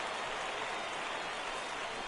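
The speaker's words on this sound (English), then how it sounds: "we've mentioned the conditions aren't ideal with the rain coming down" Steady rain hisses down evenly on a PS4 baseball game, a dense, continuous wash of drops with no talk over it.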